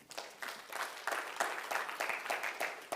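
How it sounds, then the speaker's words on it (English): Conference audience applauding, a moderate crowd whose clapping comes in uneven surges over a few seconds, fairly close and without speech on top. "Give yourselves a round of applause for making it here."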